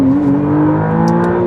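McLaren Artura hybrid sports car in manual mode, its engine revving with a rising tonal whine. The sound is close and loud, holds steady for a brief moment, and no one speaks.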